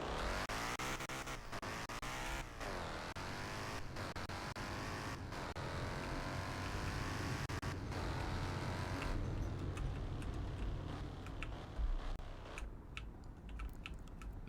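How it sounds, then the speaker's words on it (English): A car engine in the video game Fix It Up pulls away and climbs through the gears, repeated rising revs with shifts, a steady loud whine close up and no talking. "let's go ahead and drive it a bit and give it a rev"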